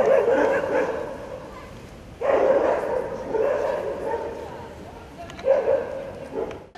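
Aggressive stray dogs near a school in a residential neighborhood, barking, yipping and whimpering in repeated bursts that sound fairly close and loud.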